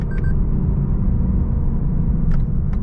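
A 2020 Lexus LC 500 rumbles loudly and deeply as it downshifts, a dense, continuous engine roar heard from inside the car.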